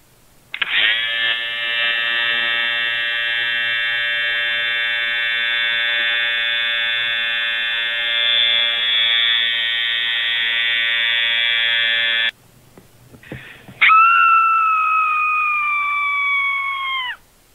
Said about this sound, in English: I'm gonna shave off all of your fur.